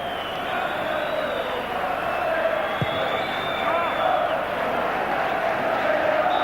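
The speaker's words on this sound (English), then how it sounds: "Great applause for the Liverpool team." Football crowd applauding Liverpool at half-time in a 1991 European match against Auxerre, a steady broad wash of clapping and crowd noise throughout, with a commentator's voice faintly under it.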